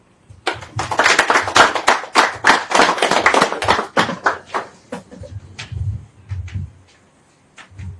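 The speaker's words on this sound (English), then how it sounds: "Can give me another round of applause." A small audience claps after a speech at an agricultural app launch, a burst of sharp handclaps that thins out into a few scattered claps before fading, heard fairly close.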